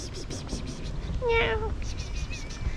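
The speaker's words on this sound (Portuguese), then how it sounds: "Olha o gato ali." A cat on a street in England gives one clear, fairly close meow, with a brief voice beforehand and steady outdoor background noise.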